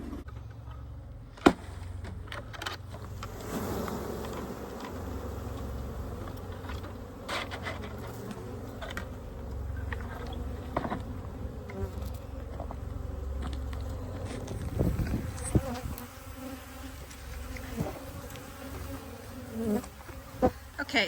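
Honey bees from a colony being moved into a new hive box hum steadily and densely at close range, with scattered clicks and small knocks throughout and no talking.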